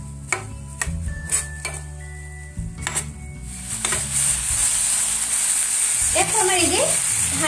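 Spice masala for a spicy cauliflower curry sizzles and fries loudly in a pan, with a few clinks and stirring scrapes early on before a steady, close hiss fills the rest.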